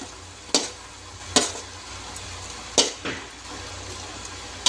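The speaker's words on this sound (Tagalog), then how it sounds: "Yan, haluin na natin dahil luto na yung suka niya." Pork adobo being stirred in a pan, with four sharp scraping clinks from the spoon spaced a second or so apart over a low, steady simmering hiss.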